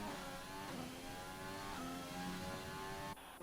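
McLaren Formula 1 cars racing around the Singapore circuit in a racing video game, a steady high-pitched engine whine with rising and falling pitch as they pass, fairly quiet and unbroken.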